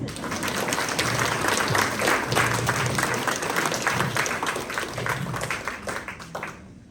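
A roomful of Rotary club members applaud together at an award gathering, the clapping dense and sustained for several seconds before it thins and fades out.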